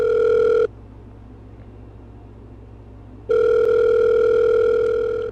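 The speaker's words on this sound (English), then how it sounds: "So I decided to call her again." A telephone rings with no answer, two loud steady tonal ring bursts separated by a long silent gap, heard close and alone.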